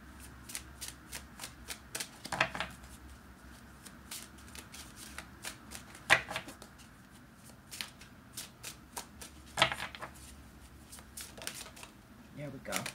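Tarot cards are shuffled and drawn from a deck in a quiet room, with soft riffling flutters and sharp snaps of cards spaced across the clip, close and light, while a voice talks quietly throughout.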